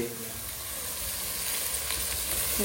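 Ginger garlic paste sautés in a pan for mutton biryani, a steady broad sizzle and hiss that slowly grows louder, with faint stirring near the end.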